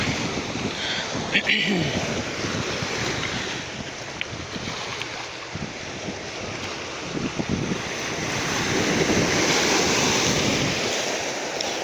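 Ocean surf washes against rocks on a beach steadily with gusts of wind, swelling louder toward the end as a wave surges in.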